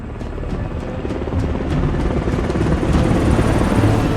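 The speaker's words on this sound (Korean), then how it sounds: "날씨가 좋아 헬기가 동원됩니다." A military helicopter flies overhead in clear weather during a search, its rotor thumping steadily and loudly with a broad engine roar that swells slightly as it continues.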